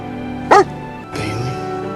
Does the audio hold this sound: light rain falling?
no